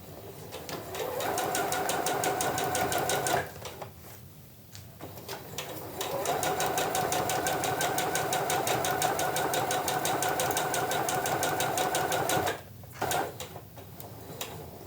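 A sewing machine stitches a tote bag seam in two long steady runs with a fast, even mechanical rattle, separated by a short pause, close and fairly loud with no talking.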